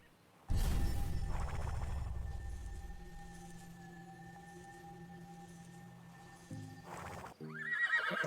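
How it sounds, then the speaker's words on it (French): A magical dryad horse, a forest-spirit mount in a video game, gives a loud neigh with galloping hoof clip-clop, followed by a sustained tonal magical hum and a few brief chimes near the end. "C'est donc un cheval qui vient par de la nature."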